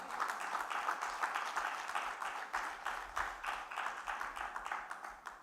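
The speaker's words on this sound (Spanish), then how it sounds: "Dele palmas al Señor." A church congregation claps together in a steady, rhythmic pattern, moderately quiet and slightly distant, with no talking over it.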